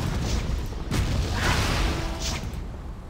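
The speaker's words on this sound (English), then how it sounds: "The cannon is fine because they only fire once." Heavy booms from cannon fire in Torchlight 2 sound over rumbling battle noise, with a couple of dull blasts standing out around the middle of the clip.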